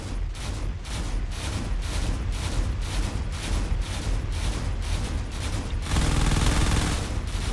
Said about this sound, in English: They're trying to shoot down those torpedoes as best they can.